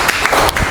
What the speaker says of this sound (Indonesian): tepuk tangannya dulu untuk Jesslyn.